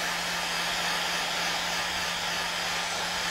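Continuous roar of a hair dryer drying a watercolour painting of fruit, loud and near, with an unbroken airy rush over a low steady motor tone.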